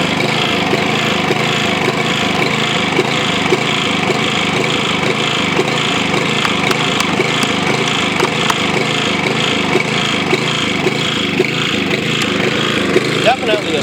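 A smoking Briggs & Stratton OHV small engine with oil in the muffler runs steadily and loudly, a constant rough drone with a fast pulsing beat that holds throughout.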